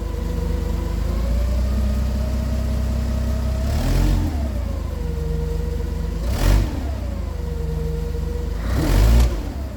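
A giant forklift's engine revs while pushing against a Cadillac Fleetwood to straighten its bumper: a steady mid-pitched drone that swells into three louder surges, with creaks of strain as the car is shoved.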